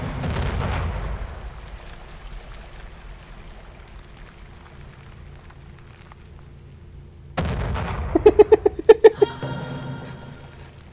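A deep explosion in the video game Weird West booms at the start and fades; later a second blast hits, followed by a quick series of sharp, crackling bursts.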